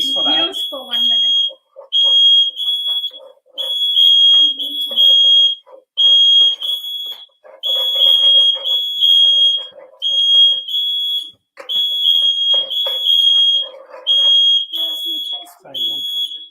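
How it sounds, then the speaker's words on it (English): A smoke alarm, set off by cooking smoke in a kitchen without an extractor, emits loud, piercing electronic beeps in rapid repeated bursts, with short pauses between runs and people talking underneath. "because we are not doing it with an extractor, the smoke alarm has triggered"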